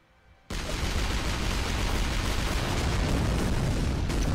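A tank weapon fires in the video game Shellshock Live, bursting in after a short quiet moment into a sustained, loud, dense roar of blasts that stays steady to the end.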